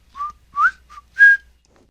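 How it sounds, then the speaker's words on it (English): A sound effect of little dots flying out of a ship: four short, clean whistles, each a brief rising or steady tone with gaps between, bright and close with nothing else behind them. "more little dots whistled as they flew out of the ship and joined the others"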